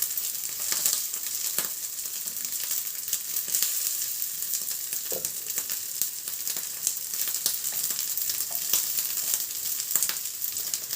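Baby food sizzles steadily in a frying pan, a continuous bright hiss scattered with small pops and crackles and an occasional scrape of stirring, close and uninterrupted for the whole stretch.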